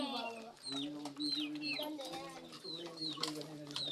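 Two pigeons cooing and fluttering nearby, with soft repeated calls and chirps mixed with other bird sounds, as quiet voices murmur in the background.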